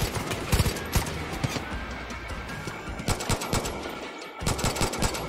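Heavy gunners in Far Cry 5 fire rapid, loud bursts of automatic gunfire that keep going through the whole stretch, dense and close.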